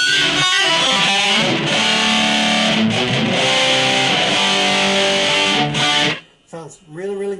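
An electric guitar plays the intro to a song through a BOSS eBand JS-10 with the delay off. It has a loud, distorted, sustained tone with chord and note changes and ends abruptly, followed by brief talking.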